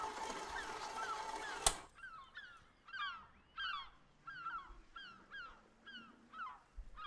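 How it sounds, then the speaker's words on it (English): Seagulls on a rooftop give a run of about eight squawking, honk-like calls at a moderate distance, after a short burst of machine noise ends in a sharp click. "There's seagulls on the roof."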